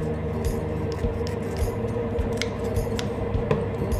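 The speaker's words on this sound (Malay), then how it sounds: "gunting ataupun trim bahagian atas ikut ketinggian yang sesuai" Scissors trimming the top of a folded banana leaf wrapper to size, a series of crisp snips and clicks close by, with faint background noise and no talk.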